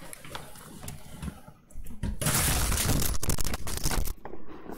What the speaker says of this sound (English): That was the sound of me tripping on a cord and my laptop falling on the ground.